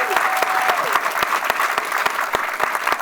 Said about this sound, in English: Another big round of applause for Holly for being here.